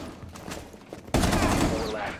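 Video game gunfire bursts in abruptly, a dense loud rattle of rapid shots that continues steadily after a stretch of quieter background sound with faint talk.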